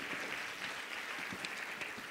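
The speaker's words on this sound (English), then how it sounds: "Please clap for her." Audience applause at a women's health and wellness event in Nairobi, a steady crowd of hands clapping evenly throughout, moderately distant and continuous without talk.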